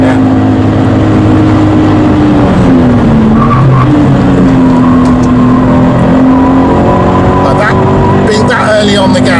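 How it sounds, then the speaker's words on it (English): Tyres of a Toyota GT86 squealing on a race track, a sustained, wavering high whine that bends in pitch over a loud, continuous engine and road roar. "it may be that you never really eliminate the tyre squeal"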